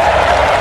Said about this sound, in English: One doesn't know whether the cheer was for the 100 or for Bruce Reid